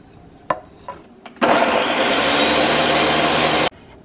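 A food processor blends onion, garlic, jalapeno and cilantro in one loud, steady whir lasting about two seconds, cut off abruptly, preceded by a few light knocks and clicks.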